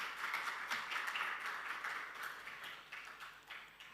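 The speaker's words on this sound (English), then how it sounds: "A round of applause, please, ladies and gentlemen." Audience applause at an awards ceremony in Dubai, a steady, dense round of clapping from a crowded hall that sustains throughout and tapers slightly toward the end.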